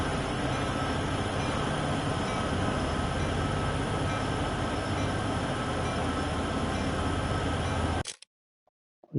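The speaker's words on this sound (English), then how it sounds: "This is how long this train is." A long freight train in Train Sim World 2 on the Sherman Hill route rumbles past steadily and loudly with rail clatter, then cuts off abruptly to near silence.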